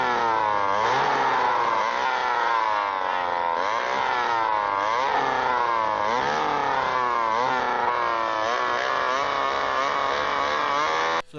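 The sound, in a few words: chainsaw from a horror film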